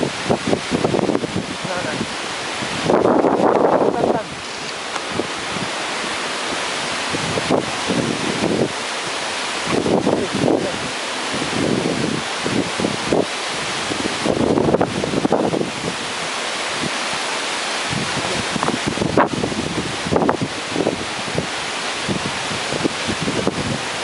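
Typhoon wind roars steadily and buffets the microphone in repeated gusts throughout, with voices speaking now and then under the noise.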